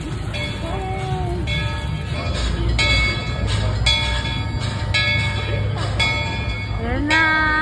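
A train at Tokyo Disneyland's Tom Sawyer Island area rumbles along loudly and steadily, with bright ringing bell-like and whistling tones rising over the rolling noise near the listener.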